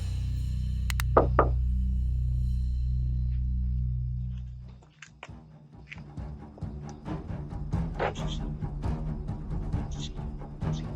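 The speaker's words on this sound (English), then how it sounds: "The masked man knocks on the door." A masked man knocks on a house door, a series of rapid, sharp raps picked up by home security footage, loud and clear over a faint background hum.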